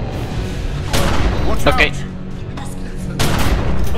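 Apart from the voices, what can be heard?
gunfire in video game The Secret World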